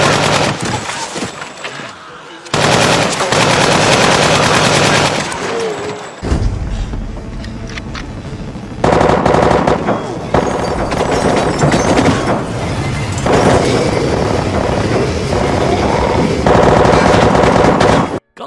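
Gunfire from The Walking Dead, dense bursts of rapid machine-gun shots and heavy booms, loud and near in shifting sections with brief pauses between volleys.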